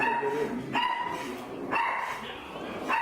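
A dog barks in short loud bursts, three or four times at roughly one-second intervals, near the mic during a police stop in DeKalb County, with faint voices in the background.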